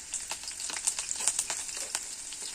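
Garlic and finely chopped green chili frying in hot oil, a steady crackling sizzle with small sharp pops scattered throughout, moderately close and without any voices.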